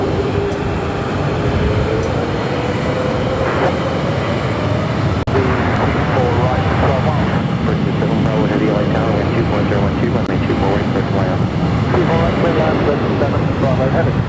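An American Airlines Boeing 777-300ER at LAX, with a steady, loud jet engine roar filling the scene continuously, a rising whine in the mix and radio chatter and voices layered over it.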